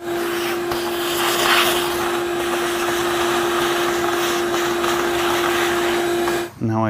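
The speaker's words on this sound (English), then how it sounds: "Grab the vacuum." Vacuum cleaner running loud and steady in a garage during flooring edge work, a constant roaring hum with a tonal whine that cuts off abruptly near the end.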